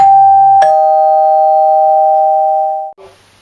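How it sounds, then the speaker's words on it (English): A two-tone electronic bell chimes loudly on a TV show, a bright ding-dong whose second tone rings out and fades over about two seconds before cutting off. "you hear a bell"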